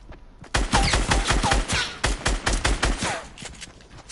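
Rapid video game gunfire in a fast, punchy burst of repeated shots, loud and close, with a brief gap before another volley and no talk over it.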